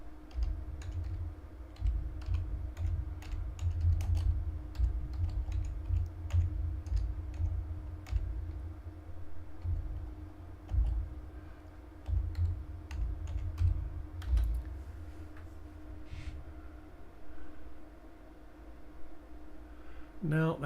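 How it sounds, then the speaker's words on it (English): Soft clicking keystrokes come from a computer keyboard as someone types a Google search, scattered in quick bursts across a steady low hum, with a person talking at times. "Let me type it into Google and see if it comes up."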